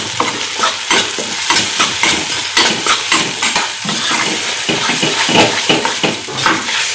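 Masala with cumin, turmeric and Kashmiri chili powder roasting in oil, loud close sizzling with rhythmic spoon stirring and scraping against the pan throughout.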